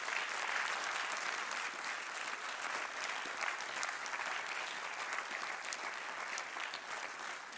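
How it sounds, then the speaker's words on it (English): Sustained audience applause at an academic-year opening ceremony honouring education prize winners, dense steady clapping from a crowd lasting the whole stretch without pause. "applause from our audience."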